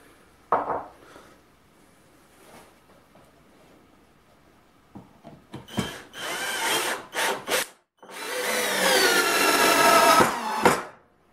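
A cordless screwdriver drives a soap-lubricated self-tapping screw into wood. After quiet handling noises, several short whirring bursts come close up, then one longer steady run before it stops.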